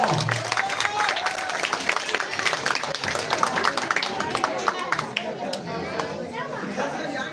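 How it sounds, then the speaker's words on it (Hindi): Audience clapping to welcome a student at a coaching centre's 2025 final test prize event, a steady crowd applause with chatter running throughout. "आप लोग ताली से स्वागत कीजिएगा।"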